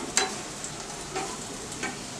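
Battered eggplant fritters (beguni) fry in hot oil with a constant close sizzle, broken by three brief scraping stirs, one near the start and two later.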